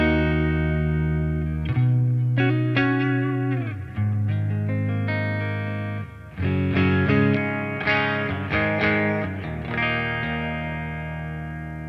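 A Stratocaster electric guitar played clean straight into a D20 amp rings out in strummed chords and picked notes, loud and close, with sustained decays between phrases.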